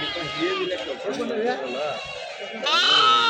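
Young goats bleat in quick, wavering cries close by at the Kadiri livestock market, repeating several times, with people talking over and between the calls.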